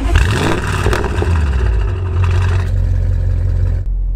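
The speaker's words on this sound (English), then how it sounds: "So, first things first, let's start the engine." A 700 bhp stage 2 Audi RS6 with Armytrix downpipes cranks and fires up, a loud, close burst of deep exhaust rumble that settles into a heavy, throbbing idle before cutting off abruptly.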